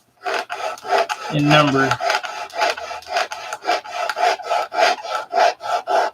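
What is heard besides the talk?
sanding wood with 80 grit sandpaper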